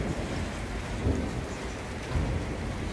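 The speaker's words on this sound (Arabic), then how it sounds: "شفتوا التبروري كي داير؟" A hailstorm with thunder batters the ground outdoors, a dense, steady roar of loud falling ice and rain, with low thunder rumbling twice beneath it and no one speaking.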